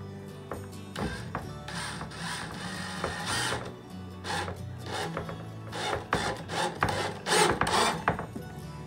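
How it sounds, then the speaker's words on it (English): A power drill whirs in repeated short bursts, driving small screws into wood to attach wheels, with scraping and ratcheting clicks between runs. "So I'm just going to take them and start drilling them in."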